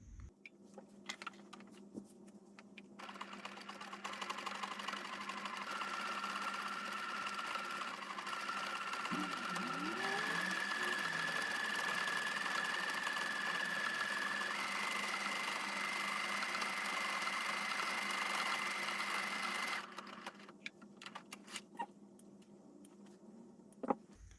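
A Singer Quantum Stylist 9960 sewing machine stitches custom letters and numbers on fabric, a fast steady whirring hum with a rapid ticking rhythm. It starts after a few quiet seconds, runs continuously for about sixteen seconds, then stops.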